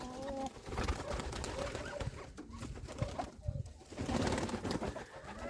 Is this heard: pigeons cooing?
yes